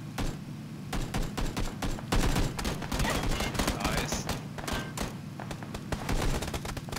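Rapid bursts of gunfire from a PUBG firefight, dense repeated shots with sharp transients filling the whole stretch, loud and close, with voices talking over them.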